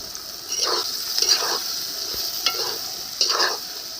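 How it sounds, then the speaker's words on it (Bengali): Chopped onions frying in hot oil with whole garam masala, whole dried chillies and bay leaves, stirred in a kadai, a steady close sizzle broken by several scraping stirs, no voices. "কড়ার ওই তেলেতে গোটা গরম মশলা, গোটা লঙ্কা, তেজপাতা দিয়ে পেঁয়াজ কুচিগুলো দিয়ে দেবো, দিয়ে ভালো করে নাড়াচাড়া করে ভাজা ভাজা করে নেব"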